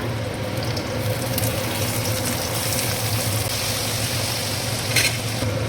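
Water pours into a pot of kochur mukhi and coconut curry on the stove, a steady, close rush of liquid that lasts throughout at an even level with no talking.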